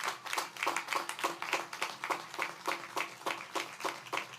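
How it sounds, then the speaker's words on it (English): A small graduation audience claps for the teachers in a fairly quiet, distant burst of rhythmic hand claps, the individual claps evenly spaced and loosely in unison rather than a full roaring ovation. "I want to give them a very big round of applause"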